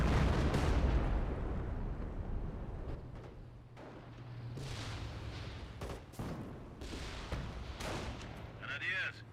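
Rifle gunfire in the Company of Heroes video game, with bursts of shots and distant booms rumbling over a continuous battle din, heard alongside talk.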